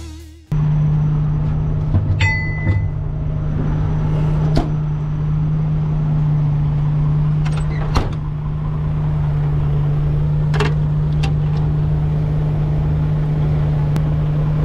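A tow truck winches out a stuck vehicle with a loud, steady mechanical drone. Occasional clanks and clicks break in, and no one speaks.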